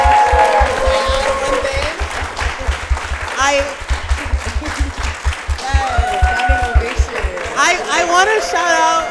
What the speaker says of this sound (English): let's give everybody here a big round of applause